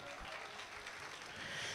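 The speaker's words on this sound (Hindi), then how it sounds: "ताली बजाओ" An audience at a college event claps in steady applause, a dense continuous patter of many hands that stays even in loudness throughout the short stretch.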